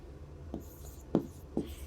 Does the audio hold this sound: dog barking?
no